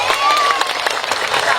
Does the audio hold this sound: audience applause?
yes